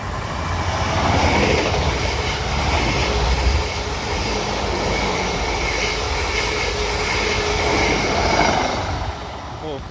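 Two coupled Class 444 electric multiple units run past Raynes Park on the South Western Main Line, a loud steady rush of wheels and rail noise that stays close for the whole stretch and eases slightly at the end.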